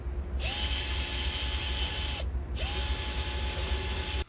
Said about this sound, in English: what I'm going to do is just drill that head out.